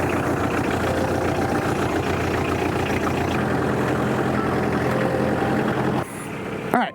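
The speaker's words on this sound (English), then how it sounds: "I'm gonna move the tractor into the sun so the frost can melt off." A tractor engine idles on a cold, frosty morning, giving a steady, close, low rumble that runs unbroken for about six seconds before dropping in level near the end. No one speaks.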